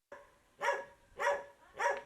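A dog barks three times at an even pace, close and fairly clear with quiet background, in a village recovering from flooding.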